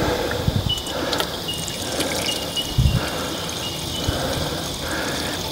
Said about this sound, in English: This water's probably going to run straight out underneath it.